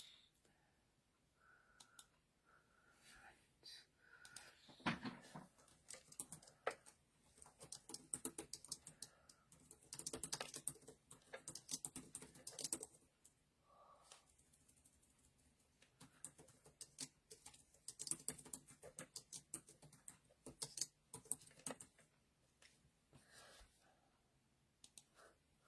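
Keyboard typing with quick irregular clicks in scattered bursts, fairly quiet and close, in a mixed-media craft class setting, with no talk over it.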